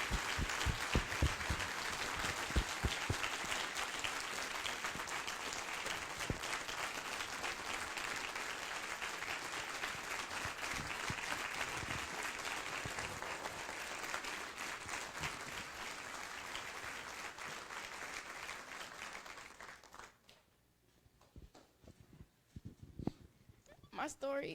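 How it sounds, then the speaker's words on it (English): A crowd at a student awards ceremony applauds an honoree, with sustained dense clapping and some cheering that fades out near the end, leaving quiet room sound and a few scattered claps. "let's give Michaela a round of applause"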